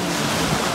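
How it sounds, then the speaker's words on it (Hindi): Water washes and rushes steadily at night, a broad, continuous noisy wash with wind-like texture and no voices, lasting under a second. "पानी का तो आवाज़ आ रही होगी"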